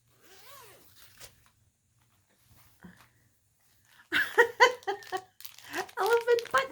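Several short, raspy zips of a clothing-style zipper come after a near-silent stretch with faint rustles, and someone talks and laughs over the zipping.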